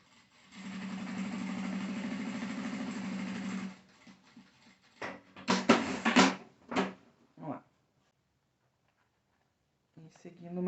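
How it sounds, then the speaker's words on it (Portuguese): A sewing machine runs a straight seam on a small fabric phone shoulder bag, a steady close mechanical whir of rapid stitching for about three seconds, followed by handling noises and someone speaking Portuguese. "Eu vou colocar e vou passar uma costurinha aqui, direta já, fixando tudo juntinho."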